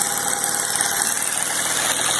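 A small air engine on a benchtop hybrid drivetrain runs at 1200 RPM with no load, giving a steady, close, continuous whirring hum with a faint high whine and no voices.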